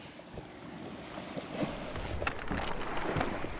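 A small recyclable sportsboat planing across the water, with a rushing hiss of spray and wind that swells in the second half, heard up close without talk.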